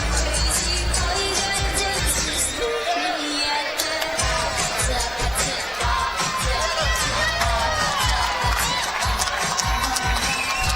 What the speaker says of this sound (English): You hear the crowd still making noise for Priest.